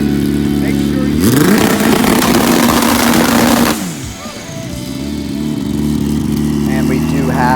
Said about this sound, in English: We will show you this bike run.